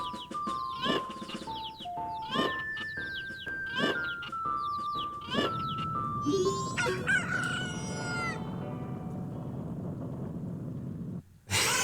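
Rooster crowing at dawn in the video game Majora's Mask, a series of loud, drawn-out crows over a musical melody, followed by a low rumbling, shaking drone that builds steadily before cutting out.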